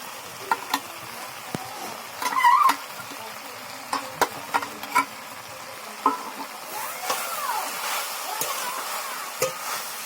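Homemade paste of cumin, mustard, coriander, fennel, bay leaf and dried chilli is sautéed in a pan with shrimp and pea greens, giving scattered scraping clicks from stirring over a soft sizzle that swells louder near the end.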